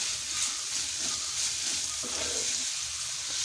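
Onions sautéing in a pan for beef curry, a steady close sizzle and hiss of frying that runs unbroken throughout, with faint stirring scrapes and no voices.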